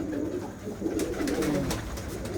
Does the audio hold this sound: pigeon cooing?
yes